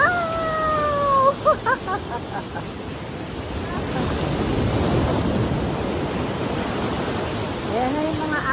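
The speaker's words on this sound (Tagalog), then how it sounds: "Ayan na yung mga alon. Papunta na sa paa ko." Ocean waves wash up on a beach in a steady broad rush of surf, close and continuous, with a voice briefly heard at the start and again near the end.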